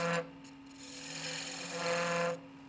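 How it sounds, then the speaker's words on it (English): Spindle detail gouge cutting a narrow cove in wood spinning on a lathe, a close raspy scraping hiss that swells and fades over a steady motor hum. "So I definitely am going to use my spindle detail gouge."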